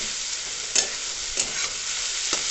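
Day-old leftover rice stir-frying in a pan with carrot, tomato, onion, green chilli and egg, giving a steady close sizzle broken by three sharp scraping stirs, with no talking.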